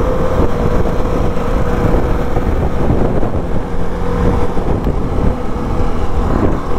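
A Pulsar NS and a KTM Duke 390 motorcycle race side by side, a loud continuous engine roar mixed with wind rush, steady throughout with no talking over it.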